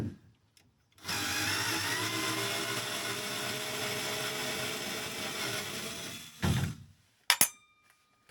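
A power drill backs screws out of a DIY fixed camper bed, whirring loudly and steadily for about five seconds. It stops, a short burst and a few clicks follow, then quiet.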